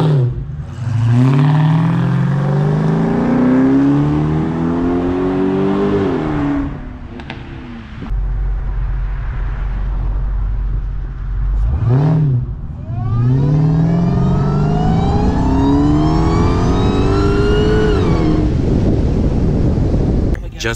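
A tuned SRT Hellcat with over 700 horsepower, set to its custom drive mode, accelerates hard through the gears, its engine rising in loud, sweeping climbs, easing during a brief shift pause, then climbing again under people talking inside the car.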